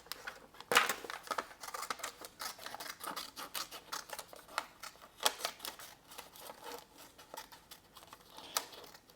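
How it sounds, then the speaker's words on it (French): Scissors snip through the colour-code section of a diamond painting canvas, a run of quick, close, crisp cuts and rustles of paper that repeat unevenly, with a few sharper snips standing out. "je vais prendre mon ciseau et je vais découper tout ce qui est code couleur"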